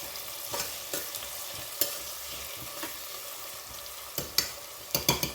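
Onions frying golden brown for chicken biryani, a soft continuous sizzle broken by scattered scrapes and taps of a stirring spoon against the pan, close but fairly quiet, no speech.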